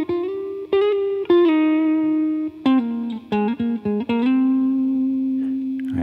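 A clean electric guitar plays a short melodic lead line, sliding and bending between notes with a slight echoing sustain, played alone.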